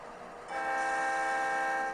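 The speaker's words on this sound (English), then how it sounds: "So now when I blow my air horn," A model locomotive's single sustained multi-tone air horn blast starts after a brief quiet moment and holds steady, loud and close, until the end.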